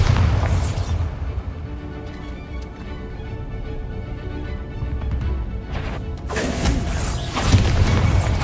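Bombarda explosion spell in Hogwarts Legacy, a heavy booming blast with crashing debris at the start and again near the end, separated by a quieter rumbling stretch of game ambience.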